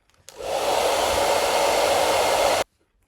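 A hair dryer blows steadily on a watercolor painting with a wet cadmium red wash, switching on abruptly, holding a loud continuous whoosh for about two seconds, then cutting off into silence.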